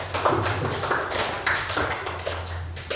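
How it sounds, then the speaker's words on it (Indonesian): A classroom of schoolchildren claps for three presenting groups, giving a short burst of close, irregular hand claps with a few sharper individual slaps over a faint room hum. "Tepuk tangan dulu untuk 3 kelompok."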